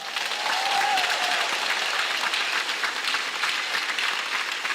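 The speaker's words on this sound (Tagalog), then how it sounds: "Yung palakpak yung malakas," A church congregation at a healing service claps loudly, a full, continuous wash of applause from a large crowd, with a brief faint tone near the start.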